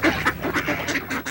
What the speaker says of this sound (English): For all the wild ducks and geese that make this portion of Guntersville Lake home